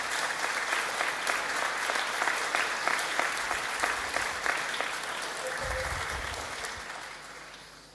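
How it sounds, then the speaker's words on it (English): Sustained applause from a graduation ceremony audience at an art and design college, steady and full for several seconds before gradually tapering off toward the end. "those graduating would wish to applaud you one more time"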